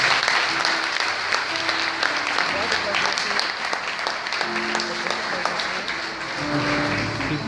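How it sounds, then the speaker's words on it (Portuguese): Church congregation applauding steadily at a worship service, a dense sustained wash of clapping with voices calling out over it throughout. "Você pode aplaudir ao Senhor?"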